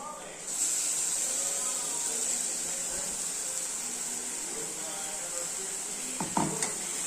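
A paste of ground tomato, ginger, garlic, pepper, cumin and fennel hits hot oil for a crab gravy, giving a loud, steady sizzle and hiss with a few clinks of a stirring spoon near the end.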